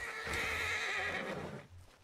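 A horse with a shattered leg whinnies loudly and shakily in the RedM video game, one long close neigh with hooves faintly clopping underneath, fading out at the end.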